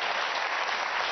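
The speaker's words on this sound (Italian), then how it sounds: "le lascio i giusti applausi." Studio audience applauding on an Italian political talk show, a dense, steady wash of clapping that fills the whole short moment.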